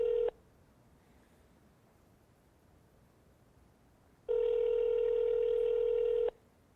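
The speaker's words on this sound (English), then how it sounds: "Can y'all hear the phone ringing?" Telephone ringback tone over a phone line: a short tail of one ring, a pause of silence, then a steady two-second electronic ring. No talking.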